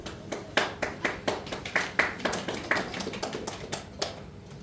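Scattered audience clapping fills a briefing room at a mayoral candidacy press conference at Cheongju City Hall, a crowd of separate hand claps at moderate distance that thins out toward the end, with no talk over it.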